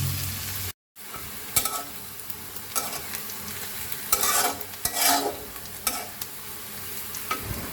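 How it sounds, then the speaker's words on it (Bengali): Onions fry in mustard oil in a wok, a continuous sizzle broken by a brief gap near the start, with periodic louder scraping stirs from close by. "আমার পেঁয়াজটা ভাজা হয়ে গেছে,"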